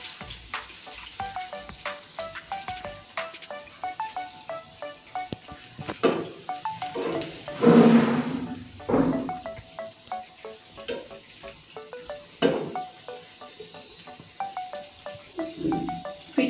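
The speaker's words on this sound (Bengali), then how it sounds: "পিঠাগুলো দেখুন একদম লাল লাল করে ভেজে নিচ্ছি।" Banana pitha cakes fry in hot oil, a steady close sizzle with bursts of bubbling and occasional clinks of a utensil, no voices over it.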